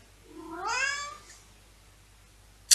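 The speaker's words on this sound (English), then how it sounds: "That's my kitty." A pet cat gives a single rising-then-falling meow, fairly close and clear, followed by quiet and a brief sharp click near the end.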